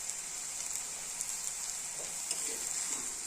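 Bottle gourd peel and potato fry in a pan, a steady close hiss and sizzle with faint stirring scrapes, no voices.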